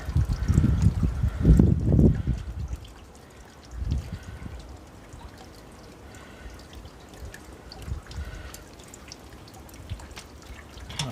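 Engine oil is poured into a generator during an oil change, giving a gurgling, trickling flow that is loudest in the first two seconds and then settles into a quieter, steady dribble with occasional bursts.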